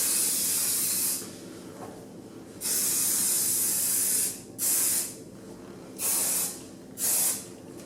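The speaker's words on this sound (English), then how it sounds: "I use this Kenra Volume 25 spray, and this stuff is really heavy duty" Kenra Volume 25 hairspray hisses from an aerosol can in close, loud bursts: one long spray, a second long spray, then three shorter quick blasts, with brief quiet gaps between them.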